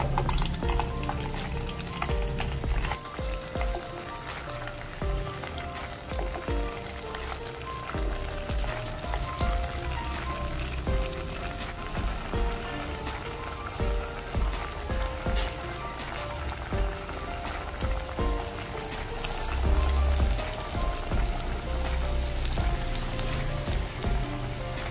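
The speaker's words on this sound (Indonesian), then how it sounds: "Sekarang kita goreng kentangnya ya." Potato pieces, cut so they fan open, frying in hot oil for homemade fries, with a steady dense crackling sizzle throughout and occasional stirring bumps, close and continuous with no talking.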